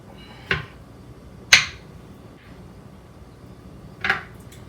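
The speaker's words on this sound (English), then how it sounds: "So I'll just cut that into big chunks" A knife chops bella mushrooms into big chunks on a board, with three sharp separate cuts spaced apart in a quiet kitchen, crisp and close.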